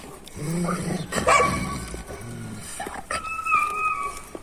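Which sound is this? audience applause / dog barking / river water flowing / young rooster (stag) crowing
dog barking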